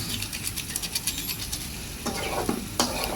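An egg frying in a pan for a children's noodle dish, a continuous sizzle with quick clinks of a utensil stirring against the pan, close and fairly loud, no voices.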